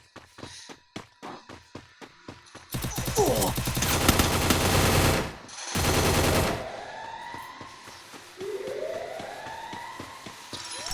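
Gunfire from the Free Fire battle royale game, starting as sparse clicks and shots, then bursting into dense rapid automatic fire with a brief gap before a second burst, ending with whooshing game effects.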